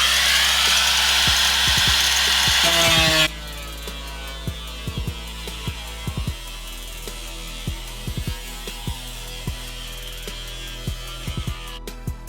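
Power drill boring into a Rocket Bunny body kit on a lowered, jacked-up Nissan Genesis, time-lapsed: a loud steady whine for about three seconds, then quieter background with repeated short sharp clicks and taps.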